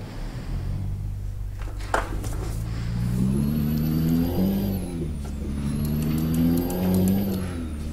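A truck engine drives steadily in American Truck Simulator, a modded truck, its low drone holding close and loud with a rise in pitch partway through, alone without talk.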